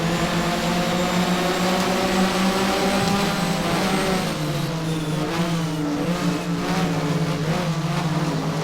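Porsche race car engine in the Race07 sim during a Mobil 1 Porsche Super Cup race at Brno, a loud, sustained high-revving drone shifting pitch as the car accelerates and changes gear, with other cars nearby.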